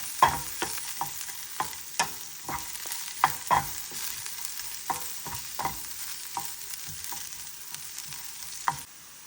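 Turmeric powder and spices roasting in coconut oil in a hot pot, with soft sizzling under a series of sharp stirring scrapes and clinks against the pot, no voices.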